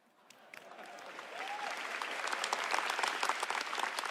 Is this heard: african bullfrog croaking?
no